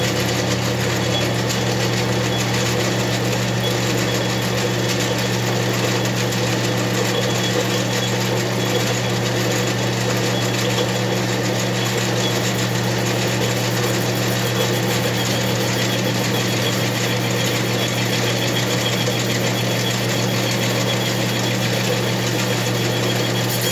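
Machining the cylinder base of an Echo 4310 chainsaw gives a loud, steady mechanical drone with a fine high buzz that holds constant throughout, with no voices.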